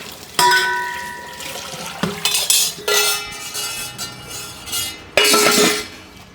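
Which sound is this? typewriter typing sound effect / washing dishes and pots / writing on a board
washing dishes and pots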